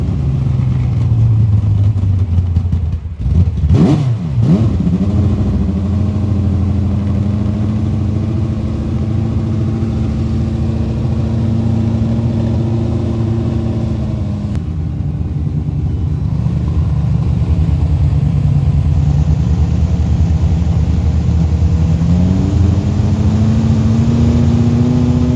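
A race car transporter's tractor unit engine cranks and fires, then settles into a loud, steady idle close by, with the pitch rising slightly as it is revved gently toward the end.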